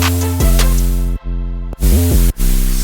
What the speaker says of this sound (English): that will just add white noise to any incoming signal